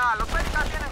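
Gunfire in Halo 2 Anniversary, level Delta Halo on Xbox One: a short burst of rapid shots with a game score underneath and no voices.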